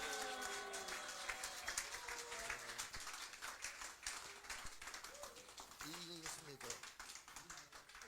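Quiet clapping from an audience welcoming a psychologist to a lecture stage, faint and somewhat uneven, partly mixed with other low sounds.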